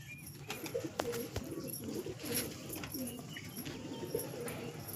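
Pigeons in a home loft coo in soft, repeated low phrases that run steadily throughout, with a faint bird chirp or two above and a light outdoor background.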